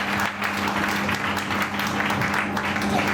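An audience at a promotional mega show in Ramnagar claps in a steady wash of applause that continues throughout, with a voice talking faintly under it.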